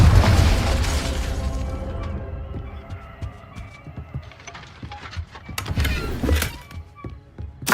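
A Confringo blasting spell in Hogwarts Legacy opens with a loud booming explosion that fades, followed by scattered pops, thunks and a second burst, with brief speech.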